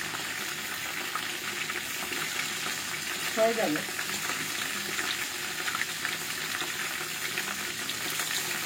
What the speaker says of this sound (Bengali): এটা ভাজা হইতে থাক, আরো কয়েক পিস দিয়ে দিই, মাছটা একটু বাড়াই দিই